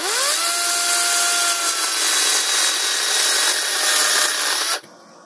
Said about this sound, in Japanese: もっとチェーンソーが安定して切れるんで